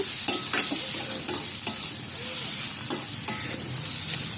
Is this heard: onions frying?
yes